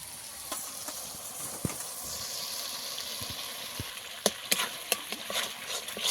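Ground coconut paste sautéed in a pan for a Jamai Shashthi tender-coconut bhetki dish, a soft continuous sizzle punctuated by sharp spoon scrapes and clinks, louder toward the end.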